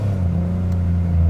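Supercharged Nissan 370Z NISMO with a VQ37 V6 making over 700 hp, revving while driving: a steady, loud low engine drone that swells slightly toward the end, with no talk.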